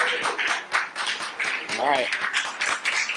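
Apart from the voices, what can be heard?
audience applause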